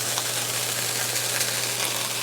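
Meat sears in hot bacon fat in a pan for French onion soup, a steady broad sizzle with a faint low hum underneath and no talking.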